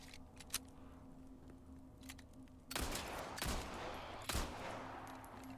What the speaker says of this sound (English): So I'm just going to have to try to just shoot a couple of them